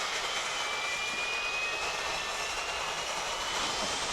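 A Mirage 2000C jet engine starting up in the DCS World flight simulator gives a steady, loud broadband roar with a thin rising whine threaded through it. No one speaks.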